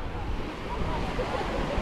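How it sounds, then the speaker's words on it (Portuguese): Waves surging against a boat at a large reef in Bahia: a brief, steady rush of water and surf, fairly loud and close, mixed with wind noise on the microphone. "Olha só a força da água batendo no barco."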